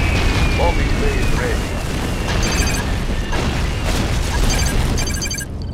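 Airship bombs exploding in the video game Yuri's Revenge (Red Alert 2), heavy continuous rumbling blasts and booms filling the whole stretch, loud and dense, with brief in-game unit voice snippets mixed in.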